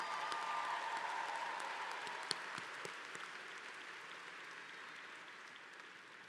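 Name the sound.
audience applause at a university commencement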